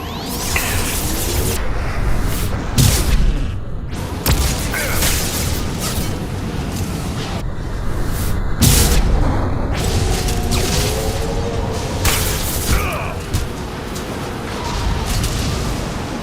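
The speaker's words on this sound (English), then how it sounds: "Watch out, flashbangs!" Flashbang grenades going off in Mass Effect 2 combat: a run of loud booming bursts and whooshing blasts with mechanical clatter, dense and continuous over layered game action.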